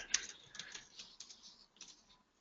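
Quiet, irregular keystrokes tap on a computer keyboard as a password is entered, a short burst of close, soft clicks with brief pauses and no talking.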